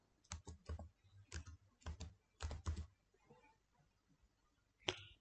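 Keystrokes on a computer keyboard typing a search term in Windows, coming in quick bursts of clicks with short pauses, close and clear, then a final sharper click.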